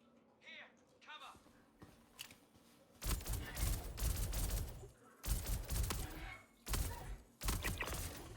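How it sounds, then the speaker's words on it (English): Video game gunfire comes in loud, dense bursts of rapid shots, several volleys separated by short gaps, with people talking over the action. "I love shooting at things that are just glitching back and forth."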